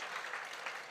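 Congregation applauding during a Sunday morning church service, a steady wash of clapping with no voices over it.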